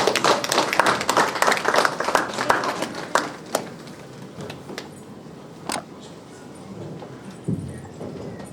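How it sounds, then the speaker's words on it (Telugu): An audience claps at a Narada Jayanti 2024 award ceremony. The applause is dense at first, then thins to scattered claps and fades out. "ఎంత గొప్పగా వినిపించాలి చప్పట్లతో ఆ సంతోషాన్ని."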